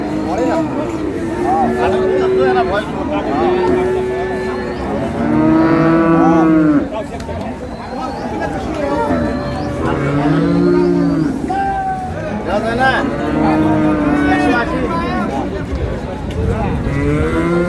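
Cattle at a village market, with dairy cows and calves nearby: repeated loud close moos, several overlapping across the stretch, over steady crowd murmur and voices bargaining.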